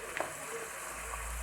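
Cream heats in a pan with onions and butter, giving a steady close sizzle and gentle frying hiss throughout with no other sounds standing out.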